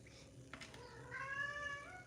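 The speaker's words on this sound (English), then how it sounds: "now Sage is meowing to confirm for you" A cat gives a single drawn-out meow, fairly quiet and close, rising over a hushed indoor room with a brief knock just before it.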